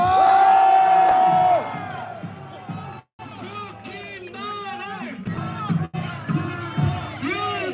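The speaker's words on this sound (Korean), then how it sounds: "좋은 말씀 해주신 교수님께 박수 부탁드립니다" A loud crowd at a street rally in Seoul cheers and shouts, with whoops rising over the din, then the noise drops and a single voice speaks as scattered cheers continue.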